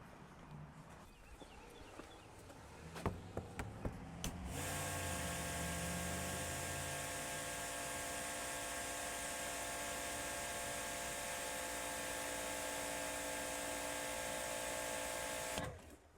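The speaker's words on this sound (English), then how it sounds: "I want it to be reading the sound of the pressure washer." An ACTIVE 2.3 pressure washer starts after a few seconds of handling clatter, then runs with a loud, steady motor whine and hiss close by before cutting off near the end.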